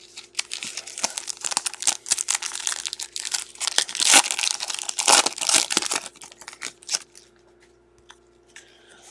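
Plastic trading card sleeves that are stuck together are handled and pulled apart at close range, making a dense, continuous crinkling and crackling that trails off near the end.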